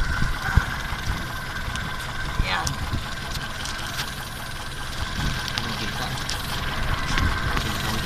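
A Toyota 4K carburetor engine idling, a steady close rumble with a faint whine, while a person talks over it.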